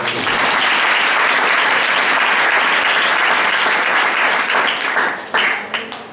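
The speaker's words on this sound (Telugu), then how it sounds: "అందరు చప్పట్లు కొట్టుకున్నాను." A congregation applauds together during a New Year church service in Sahar, Mumbai, loud sustained clapping that stays dense for about five seconds, then thins to a few scattered claps.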